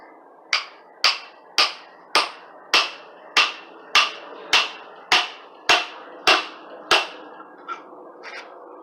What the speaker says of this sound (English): I'm going to use a big chisel and a hammer just to wedge it up